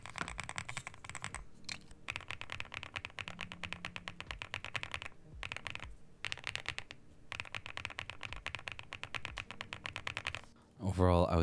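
Budget switches clacking on a Womier WD75 V2 wooden keyboard, in rapid continuous keystroke bursts with a few brief pauses, close and crisp, ending in a short louder noise.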